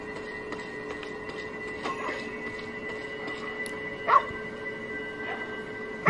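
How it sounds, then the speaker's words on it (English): A dog barks in the video game Ghostwire: Tokyo, a few short, faint yips scattered over a steady hum of game ambience. "Dog is barking at someone."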